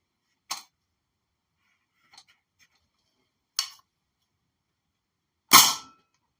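A We-Tech Apache A3 MP5 airsoft gun fires 0.12 g BBs in three separate sharp shots spaced a few seconds apart, close and crisp with silence between, the last one loudest, plus a faint click in a gap.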